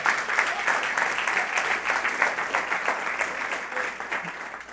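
A church congregation claps loudly and steadily, a dense sustained wash of applause filling the space for the whole stretch with no pause.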